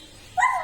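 A voice imitates a dog's bark in a classroom, one short high yelp rising out of near silence and trailing off.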